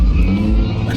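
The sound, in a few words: Mazda 20B rotary engine car revving and skidding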